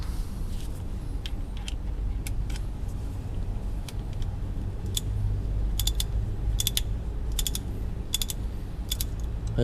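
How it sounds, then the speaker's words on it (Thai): Ratchet wrench clicking as it loosens the front differential drain plug on a Ford Everest, close and alone: bursts of sharp metallic ticks in uneven runs over a steady low rumble. "ตัวน็อตถ่ายเนี่ยไม่ได้ขันแน่นมาก เราก็คลายได้นะครับ"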